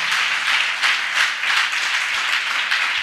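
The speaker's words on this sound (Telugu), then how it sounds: "ఒకసారి చప్పట్లు కొట్టండి" A church congregation at a Holy Communion service claps together, a steady, dense burst of applause lasting a few seconds with gentle surges in loudness and no talk over it.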